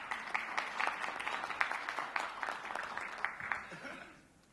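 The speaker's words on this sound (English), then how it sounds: "Let's give them a round of applause." Audience applause after a thank-you at an advisory board meeting, a moderately loud spread of claps lasting several seconds before tapering off, with faint murmuring underneath.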